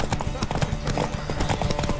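Horse hooves in The Witcher 3, rapid clip-clop at a galloping rhythm, close and loud, running continuously under game sound.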